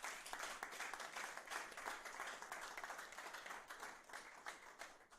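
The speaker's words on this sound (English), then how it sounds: "I beg you to clap for ourselves" Faint, distant audience clapping at a panel gathering in Ibadan, Nigeria, a steady patter of many hands with slight swells and no clear speech.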